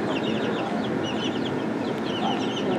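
A flock of young chickens clucks and peeps continuously nearby, overlapping short calls against steady background noise.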